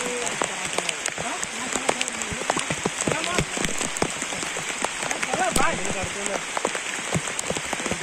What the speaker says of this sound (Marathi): खूप पाऊस पडतोय गावी